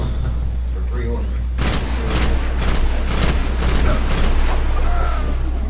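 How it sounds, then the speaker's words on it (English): Sniper and other gunfire in the shooter video game Destiny, a rapid series of loud sharp shots starting abruptly and repeating over a constant low hum, with game sounds underneath. "Those two snipers in the back just tear."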